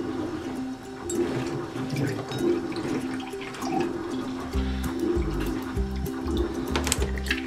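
Orange juice being poured into a blender cup for an orange chia seed smoothie, a steady liquid splash and gurgle running continuously for several seconds close to the mic, with no talking.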